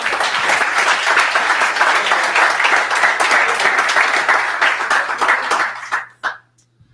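A church congregation breaks into sustained applause, dense clapping holding steady for several seconds before quickly fading out to near silence.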